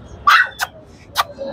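A 45-day-old Samoyed puppy at an animal market gives a few short, high yips and barks, three quick bursts spread over a moment, fairly close against quiet background noise.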